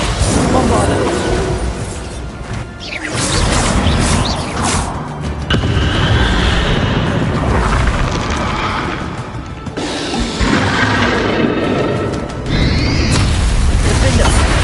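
Bombarda spell explosions and other combat spell effects burst repeatedly in the Hogwarts Legacy video game, loud and dense, with booms and crashes piling over continuous game audio for the whole stretch.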